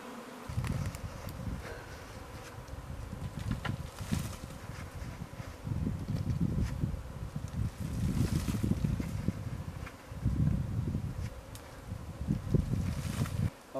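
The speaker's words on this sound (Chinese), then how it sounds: "好多现在好多蜜蜂，我现在要等着它找个地方着落" A swarm of honeybees that has split from its hive, a dense droning buzz that swells and fades in waves, loud and close, rising and falling over several seconds at a time.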